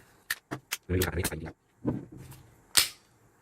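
A CZ P10 pistol is cleared by hand, producing a series of close, crisp metallic clicks and a scraping rack of the slide, then a final sharp snap, with short silences between.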